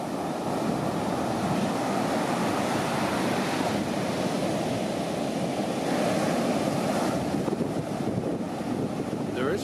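Ocean surf pounds steadily on Zicatela Beach in Puerto Escondido, Mexico, a popular surfing beach with dangerous undertows; a loud continuous wash of breaking waves mixed with wind buffeting the microphone, no talk.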